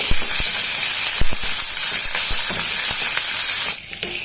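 Green chilies and dried red chilies fry in hot oil for an amla chutney, making a loud, continuous sizzle with scattered crackles and pops. The sizzle dips noticeably just before the end.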